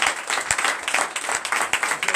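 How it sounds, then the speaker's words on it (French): Close, loud applause from a congregation at a Sunday worship service in a new temple in Comè, Benin, with dense rhythmic clapping and sharp individual claps standing out. "Prenez l'acclamation"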